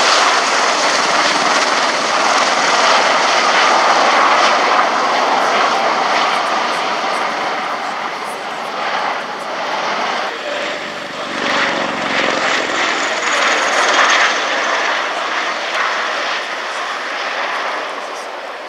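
A Boeing CV-22 Osprey tiltrotor flies at the Royal International Air Tattoo 2017, its loud, broadband rotor and engine roar sustained throughout with a slight shift in pitch as it passes, with a commentator talking over it.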